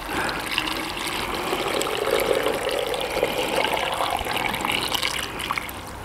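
Salt brine poured over tomatoes packed in a jar for Polish-style pickling, a steady continuous splashing trickle of liquid lasting throughout, fairly close and uninterrupted, with no talking over it.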